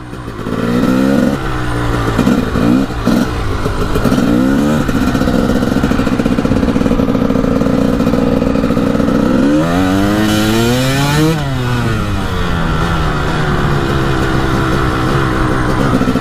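A Honda CR 250 two-stroke dirt bike is ridden close by, its loud engine rising and falling through repeated throttle blips and revs, then holding a steady high drone.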